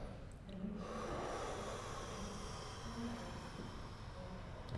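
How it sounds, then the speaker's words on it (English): A person lying back against a wall during a chiropractic session breathes in and out deeply, slow audible snort-like inhalations and exhalations close to the microphone, with faint background hiss. "I'll get you breathing in."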